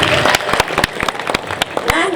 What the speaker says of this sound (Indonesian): Tepuk tangan itu untuk Mang Jaya.